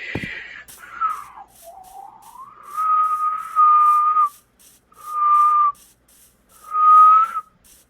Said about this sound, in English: I'm learning to whistle